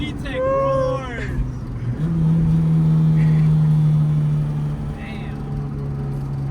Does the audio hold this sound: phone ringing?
no